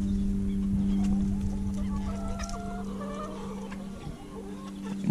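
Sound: Japanese bantam rooster

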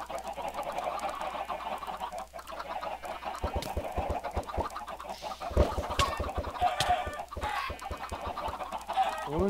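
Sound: chickens clucking in a video game

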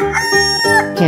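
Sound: chicken crowing in 3D animal video game

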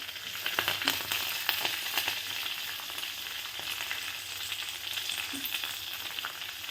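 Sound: garlic and curry leaves frying in oil

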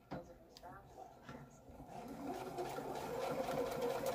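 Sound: sewing machine stitching fabric

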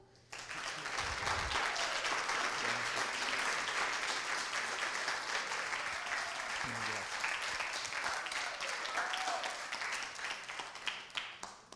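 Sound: audience applause welcoming a speaker

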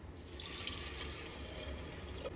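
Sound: water being poured into a pot of soaked lentils

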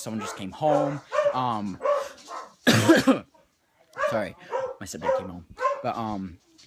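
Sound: dog barking

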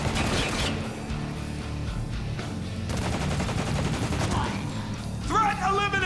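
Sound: gunfire from the video game Spec Ops: The Line

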